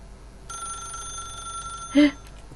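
A telephone rings in the video game The Stanley Parable, a steady electronic ring tone holding for about a second and a half before a louder, brief tone near the end, alone and fairly clear.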